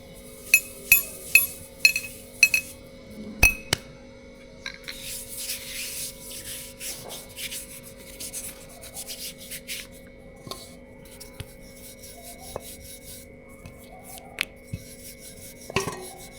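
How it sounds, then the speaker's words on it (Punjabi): Puri dough rolled out with a ghee-greased rolling pin on a board, giving soft rubbing, rolling strokes with a few sharp clinks near the start and a knock around the middle, recorded close with no talk. "ਬਹੁਤ ਵਧੀਆ ਵੇਲੀ ਜਾਂਦੀ ਹੈ ਪੂਰੀ"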